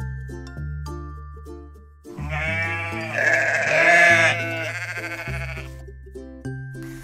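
A sheep on a farm gives one long, wavering bleat, loud and close, over a gentle children's music backing with soft chiming tones.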